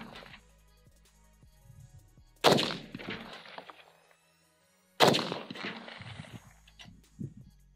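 Two sharp, loud rifle shots from a Riley Defense RAK47, spaced a few seconds apart, each with a booming tail that rings out and decays; quieter handling and shuffling sounds come before the first shot.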